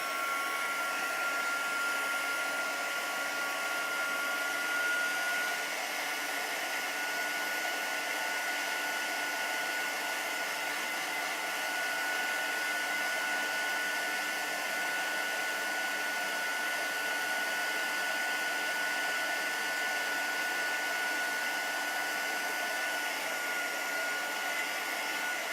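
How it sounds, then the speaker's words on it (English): A heat gun blows hot air over craft paint to set it, giving a steady, loud whooshing roar with a faint whine that runs unbroken throughout, with no talking. "this is going to get really noisy because now we need the heat gun to heat up"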